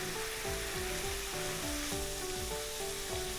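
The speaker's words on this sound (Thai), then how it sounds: "ใส่สตอลงไปเลยค่ะ แล้วก็พริกหยวกนะคะ" Stink beans, bell pepper and onion are stir-fried with meat in a pan, a steady soft sizzle beneath melodic background music, with no talking.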